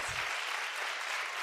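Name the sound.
audience clapping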